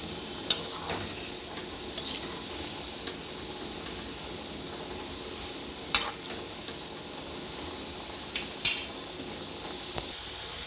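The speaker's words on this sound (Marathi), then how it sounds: "छान असे खरपूस रंगावर तळून घ्यायचे।" Homemade gulab jamun frying in hot oil: a steady, close sizzling hiss that runs throughout, broken by a few sharp clicks and light stirring knocks.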